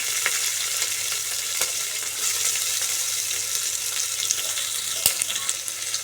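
Chopped onion fries with cumin seeds and green chillies in two spoons of hot oil for mutton kulambu, giving a steady close sizzle with occasional pops and crackles and a few stirring scrapes.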